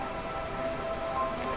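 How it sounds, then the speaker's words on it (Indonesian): Hail falling as a sound effect, a steady dense patter of small impacts on a surface, continuous and even throughout with no voices. "Yang ke-7 itu adalah hujan es."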